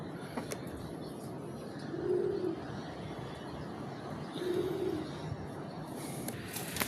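Pet pigeons kept as breeding pairs coo twice, each a low, soft, rounded call about two seconds apart, over a steady background hiss with no talking.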